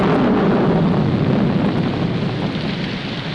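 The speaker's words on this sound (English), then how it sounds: "Put this top up. It's going to rain." Heavy rain with a thunderstorm roar, a dense, loud wash of noise that stays steady for a few seconds and eases slightly toward the end, with no voices.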